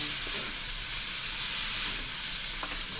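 Bihon rice noodles fry and are stirred in a pan, a loud steady sizzle with soft scraping of the utensil through the noodles throughout, no voices.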